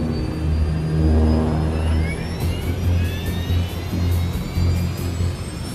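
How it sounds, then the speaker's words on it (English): Engines of Air Transport International Flight 782 spool up for takeoff at night. A loud, close jet roar builds under rising whining tones that climb steadily in pitch. "engines spool up before the plane starts moving"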